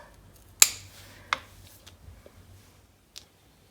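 Scissors snip succulent stems, probably Crassula, in a few crisp, close cuts spaced apart over a quiet background.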